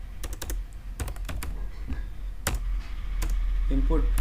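Typing on a computer keyboard while coding an HTML form: irregular bursts of crisp key clicks, close and fairly loud, with a voice briefly speaking near the end.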